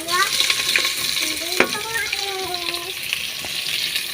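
Adobo with bamboo shoots sizzling in an oiled pan while being stirred, a steady crackling fry with scattered knocks of the utensil against the pan, close and fairly loud, with no speech.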